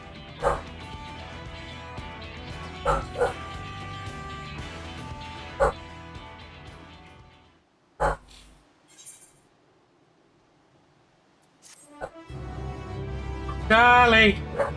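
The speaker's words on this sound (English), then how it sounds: "If you can hear a dog barking in your background, I do apologize." A small excitable dog barks and yips in short bursts in a room behind steady talk from a man streaming a game, with a few sharper yelps near the end.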